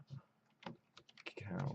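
Computer keyboard keys tapped in short irregular bursts while code is typed, soft and close, with a voice talking in the background.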